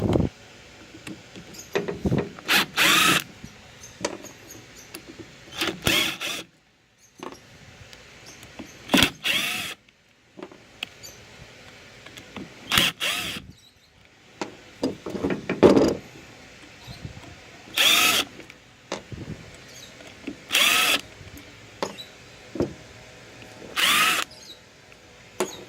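A power screwdriver backs out Phillips head screws while someone scraps small electronics, giving a series of short, sharp whirring bursts separated by quiet pauses and faint handling noises.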